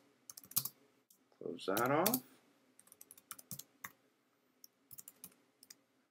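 Rapid, light clicks of fingers typing Python code on a computer keyboard, coming in uneven bursts with short pauses, quiet and close, with a brief spoken word in the middle.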